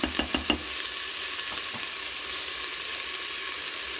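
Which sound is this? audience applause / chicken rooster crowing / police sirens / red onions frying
red onions frying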